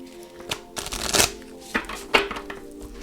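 Oracle cards shuffled by hand at close range, a few papery riffling bursts of varying length separated by short pauses, quiet and without talk.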